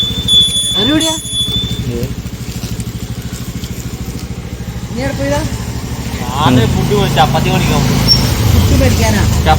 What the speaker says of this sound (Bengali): তো দেখতে পাচ্ছ সব বাইক টাইক রেডি